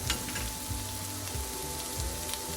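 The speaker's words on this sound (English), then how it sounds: "just continue to stir. As the peas and carrots and sausages continue to cook" Peas, carrots and sausages fry in a pan as a steady, soft crackling sizzle with occasional low stirring knocks, even and moderately quiet throughout.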